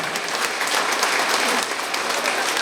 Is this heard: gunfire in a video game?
no